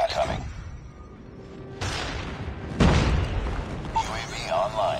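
Deep booms from a friendly airstrike in a first-person shooter video game, two heavy blasts a second apart with rumbling tails amid battle noise.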